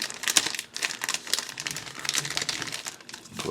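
A piece of tape is pulled off and packaging crinkles while a ration pack is closed up, giving close, irregular bursts of rustling and crackling plastic with short tearing strips.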